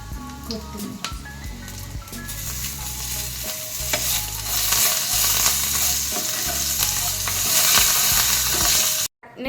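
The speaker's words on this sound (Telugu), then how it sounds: "కరివేపాకు వేసిన తర్వాత నేను కొత్తిమీర వేసి మొత్తం ఫ్రై చేసుకున్నా" Coriander, curry leaves and cumin for coconut chutney fry in a pan with a steady sizzle, stirred with scraping, squishy strokes that swell louder partway through before a sudden brief cut.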